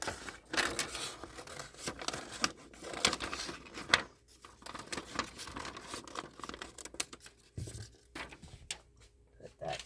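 A piece of material for resin crafts being cut out by hand, with close crinkling, scraping and snipping sounds in irregular bursts.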